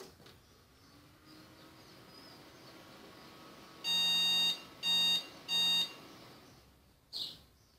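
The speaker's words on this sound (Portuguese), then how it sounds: "Ela deu um bip longo e dois curtos antes de desligar." A desktop computer's BIOS sounds a one-long-two-short beep error code before the machine shuts off: one sustained electronic tone followed by two shorter beeps, clear against a quiet background, then a faint chirp.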